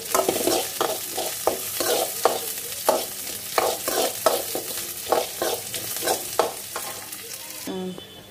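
Onions and green chillies frying in hot oil with cumin and mustard seeds, a steady sizzle broken by repeated rhythmic stirring scrapes, close and loud, ending in a brief clatter.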